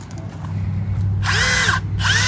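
A Milwaukee impact wrench, a compact 1/2- and 3/8-inch model rated at 550 foot-pounds of breakaway torque, fires in two close, loud bursts of high whirring hammering over steady background hum.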